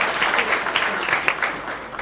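Audience applause at a tech talk on building modern websites: a dense patter of many hands clapping, close and fairly loud, with a few sharper individual claps standing out.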